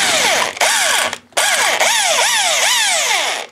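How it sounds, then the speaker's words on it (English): A power drill whines loudly, its pitch swooping down and back up repeatedly as it bites into a stripped metal Allen bolt, with a brief pause partway through. "all you got to do is drill straight down at the top"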